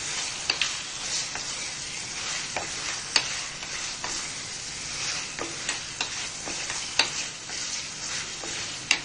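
Mutton pieces are stirred into a cooked masala for Rajasthani laal maas, a continuous hot sizzle punctuated by sharp, irregular scrapes and knocks of a spoon against the pan.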